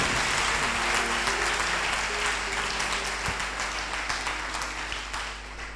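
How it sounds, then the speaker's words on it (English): A church congregation claps and cheers for Jesus during a sermon, dense sustained applause that slowly fades over several seconds. "You didn't clap for Jesus."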